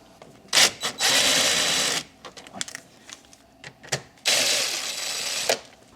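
7mm dash trim bolts being removed on a 2004 Chevy Malibu, heard as two loud bursts of close, whirring power-tool spinning separated by scattered clicks and handling knocks.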